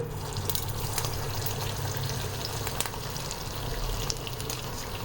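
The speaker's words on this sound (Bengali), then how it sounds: "এবার আস্তে আস্তে বড়াগুলোকে ভেজে নিই" Medu vada made from leftover rice frying in hot oil over low heat, a dense continuous sizzle and bubbling close by, steady throughout with faint crackles, no talking.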